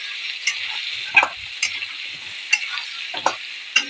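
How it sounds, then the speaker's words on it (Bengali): Potatoes fry in a pan with turmeric and salt, a close, constant sizzle broken by several soft scraping stirs at irregular intervals. "হলুদ লবণ দিয়ে আলুটা ভেজে নিচ্ছি।"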